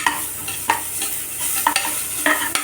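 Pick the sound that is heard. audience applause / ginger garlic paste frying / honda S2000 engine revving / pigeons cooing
ginger garlic paste frying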